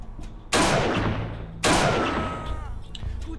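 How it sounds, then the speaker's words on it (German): Two loud, sharp gunshots from a first-person shooter video game, fired about a second apart, each trailing off in a long, decaying echo over quiet background sound. "Wollen wir die mal ins Knie schießen?"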